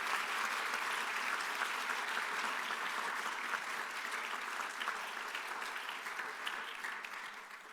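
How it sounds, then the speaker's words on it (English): Applause from a large audience at an awards ceremony for a student innovation challenge, a dense steady wash of clapping that stays even and slowly fades toward the end. "so can we please give them a big round of applause?"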